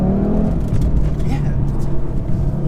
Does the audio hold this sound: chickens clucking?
no